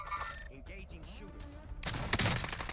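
Gunfire in a shooter video game: someone talks at first, then a loud burst of rapid shots fills the last second.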